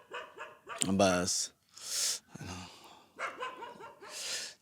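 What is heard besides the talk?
dogs barking in a monkey-filled forest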